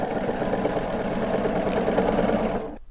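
A sewing machine runs steadily at close range, basting long stitches at 4.0 length, its rapid mechanical stitching hum continuous until it stops abruptly at the end.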